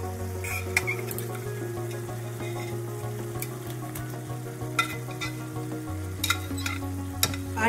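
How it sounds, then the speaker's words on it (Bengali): Masala with soaked paneer pieces frying over low to medium heat in a pan for a Kolkata-style paneer curry, a steady close sizzle with repeated spatula scrapes and occasional sharp clinks, no voices. "2 থেকে 3 মিনিট লো টু মিডিয়াম আঁচে আমি ভেজে নেব।"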